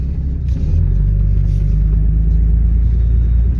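A car driving slowly with scrap metal strapped on its roof, a loud steady low engine and road rumble from inside the cabin.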